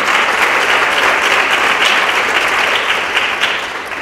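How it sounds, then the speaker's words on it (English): A school student council meeting audience gives a full, loud round of applause that stays dense and steady throughout, tapering only slightly at the very end. "Y'all give Amir a great round of applause."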